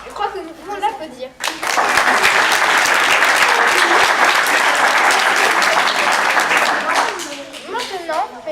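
Enthusiastic audience applause in a theatre during a children's drama competition performance of "Le magicien": loud, sustained crowd clapping for several seconds, with children's voices just before and after it.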